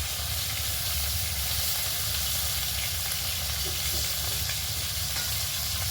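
Oil sizzles and hisses steadily as fresh, still-live pond fish fry in a pan, a continuous close crackle with no pauses and no voices.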